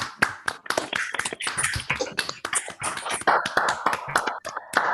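An online audience of a few unmuted participants claps together, with irregular scattered hand claps and taps, fairly close and crisp, continuing for several seconds without speech.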